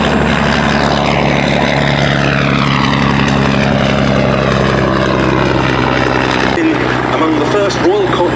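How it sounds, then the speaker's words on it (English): A loud, steady engine of a First World War German triplane drones throughout at an airshow, its pitch sweeping as the plane passes, ending with a sharp shift in tone. "perhaps the most famous German aircraft of the First World War, the Dreidecker, the triplane, which is a replica owned by Paul Ford,"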